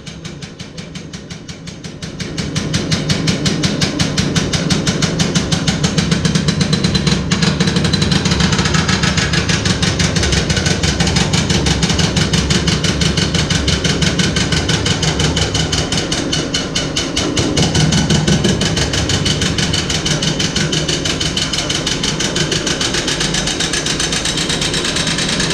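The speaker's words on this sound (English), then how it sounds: "So when I started drilling that hole, you can actually hear how drumming the rock and the ground is around you." A rock drill starts up boring a bolt hole into rock and hammers steadily, a loud rapid percussive rattle over a deep drumming rumble from the surrounding rock and ground that continues without pause.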